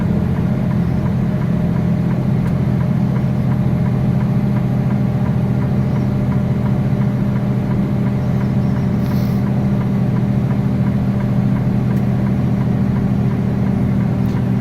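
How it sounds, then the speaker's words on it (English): A Freightliner truck engine pulling up a mountain grade with its engine fan running, a steady low drone heard from inside a fairly quiet cab, continuous and even throughout with no talking. "Engine fan is on right now. You can tell that's not very loud."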